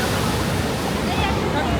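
Sea waves at Gomti Ghat in Dwarka, a continuous rushing wash of surf mixed with wind noise, loud and steady throughout with no clear talk.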